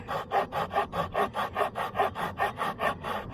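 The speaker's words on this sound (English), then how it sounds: "I'm going to trim off this edge right here and kind of reconfigure the look of what we want to do" Rhythmic back-and-forth cutting strokes on the edge of a large hand-carved wooden spoon, about a dozen steady rasping passes in quick succession, close and moderately loud with no talking.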